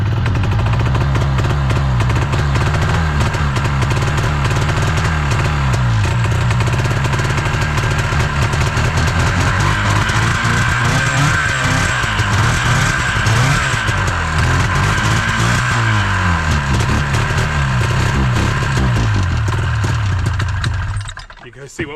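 A Ski-Doo 377 snowmobile engine with a dirty carburetor and a fallen-off motor mount runs loud and close. It keeps up a steady, rough drone for about twenty seconds before cutting out at the end.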